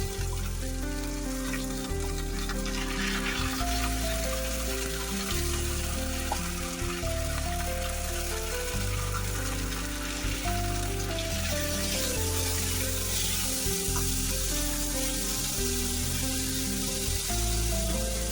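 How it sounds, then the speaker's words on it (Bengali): Washed mung dal frying lightly in a pan, a steady, dense sizzle lasting throughout, with a low rumbling hum underneath and no talking. "মুগ ডাল দিয়ে দেবো, এতে একটু হালকা করে ভেজে নেবো।"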